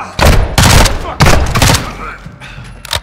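Gunfire in Call of Duty Modern Warfare 2, several loud, heavy shots and short bursts booming close by in quick succession, then a last sharp crack as things quiet down.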